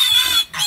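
A pig on a homestead gives a loud, shrill squeal lasting under a second, with a brief break near the end before the cry resumes up close.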